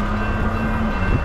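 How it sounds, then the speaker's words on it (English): A train passes through a town in Old Orchard Beach, Maine, with a steady, loud rumble of rolling rail cars and a sustained low horn tone close by. "Train is coming."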